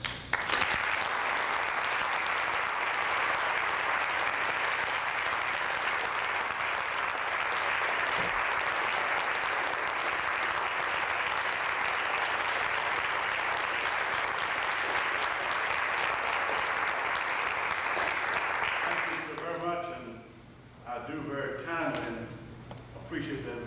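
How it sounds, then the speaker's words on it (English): Sustained audience applause fills a church hall for about nineteen seconds after a guest speaker's introduction, steady and dense, then fades into someone speaking into a microphone. "I hope that I get as much applause when I finish as I got after the introduction"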